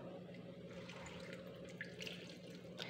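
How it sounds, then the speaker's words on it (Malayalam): Water pours steadily into a pot of banana moru curry (pulissery), a faint continuous splashing trickle with a few brighter drips and plops near the end. "വേവാൻ ആവശ്യമുള്ള വെള്ളം ചേർത്ത് കൊടുക്കാം"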